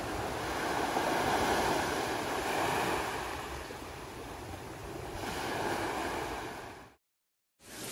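Ocean surf on a beach at Ubatuba, Brazil, washing in with slow, broad swells of hiss and roar, heard at moderate distance with some wind, briefly cutting to silence near the end.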